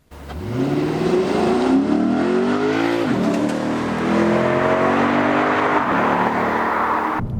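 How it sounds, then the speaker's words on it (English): A Lexus GS F's big naturally aspirated V8 engine revs hard and climbs through the gears, loud and close, with rising and falling pitch sweeps as it accelerates. "it sticks with a large, normally aspirated, high-revving V8 engine"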